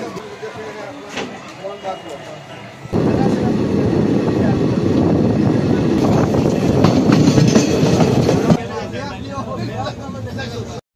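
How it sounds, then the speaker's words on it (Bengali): A train pulling away from Naugachia station, a sudden loud rumble of wheels and carriages rolling on the rails that continues steadily before easing off. A busy platform sits behind it. "ট্রেন চারাইছে"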